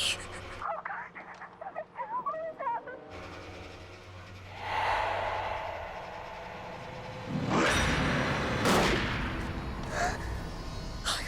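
Several sharp, loud bangs ring out at irregular intervals over a steady background rumble, following some faint, scattered noises.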